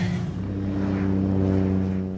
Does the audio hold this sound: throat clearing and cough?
no